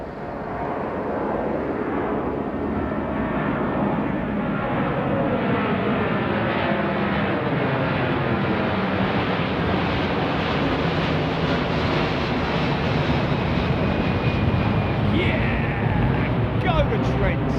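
An airliner close to Heathrow's runway 09R roars loudly and steadily throughout as its landing gear retracts, a broad continuous jet rumble with wind buffeting on the microphone.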